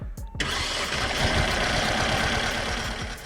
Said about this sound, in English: reassembled the engine and gave it a try